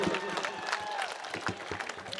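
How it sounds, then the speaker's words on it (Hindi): An audience at an All India Mushaira poetry event applauds, a dense spatter of claps from a crowd with a voice speaking over it. "एक मर्तबा भरपूर तालियों से आप आवाज दीजिए"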